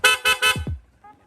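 Three loud, evenly spaced honks from an aftermarket loud horn on a Yamaha Sniper 155 motorcycle close by, followed by two short low thumps and a faint tail.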